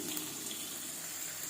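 Cut onion sautés in a pan for a vada curry, giving a constant, even sizzling hiss at low level with no breaks and no talk.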